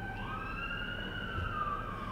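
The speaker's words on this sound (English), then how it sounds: "That's an ambulance." An ambulance siren wails in sustained rising and falling tones, steady and fairly clear at a moderate distance over low traffic rumble.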